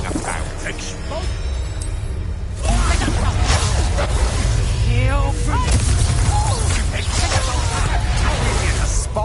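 A Bombarda spell explodes in the Hogwarts Legacy video game amid loud combat, with a dense wash of booming blasts and whooshes and game characters shouting over the fight throughout.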